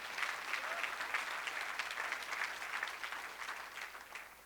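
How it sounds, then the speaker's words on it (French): Steady applause from a church congregation, a fairly even wash of many hands clapping at a moderate distance, sustained without talk over it. "Là, vous pouvez applaudir la parole de Dieu parce que c'est clair."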